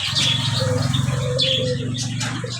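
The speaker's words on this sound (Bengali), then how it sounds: "দেখেন এখানে কত বড় একটা কবুতর।" A large pigeon at a bird market gives soft, repeated cooing amid a busy chorus of chirps and tweets from other caged birds, close and continuous.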